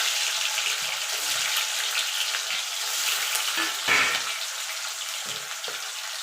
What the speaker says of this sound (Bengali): এবার পনিরগুলোকে আমি হালকা করে ভেজে তুলে নেব।